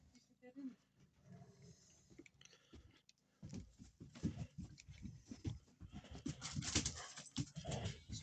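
Two dogs, a young one and an old one, playing roughly outdoors at a muddy meadow, with growls, snarls and yelps in irregular bursts, close and loud, while a person talks intermittently.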